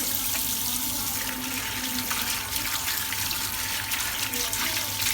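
Running tap water splashes steadily while small cups are washed at a kitchen sink, a continuous close rush with faint clinks, and people talk softly in the background.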